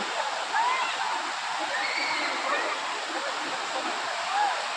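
Rushing water at a tourist spot, a dense continuous wash of flowing stream or falls at steady loudness, with faint bird chirps above it and no clear talk.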